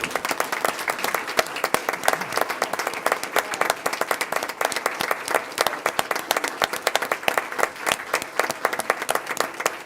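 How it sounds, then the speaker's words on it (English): Applause at a board of trustees meeting, a small group clapping steadily and close at hand for about ten seconds, with no break in the claps. "I'm going to stand and applaud you."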